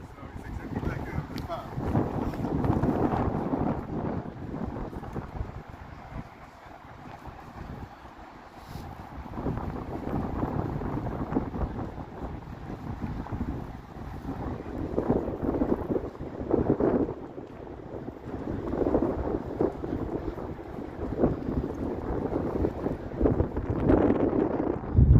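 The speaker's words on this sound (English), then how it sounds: "Some wind's kicking up." Wind gusting outdoors on a wintry evening in downtown Toronto with snow flurries, a steady loud rush buffeting the microphone throughout, swelling and easing in gusts.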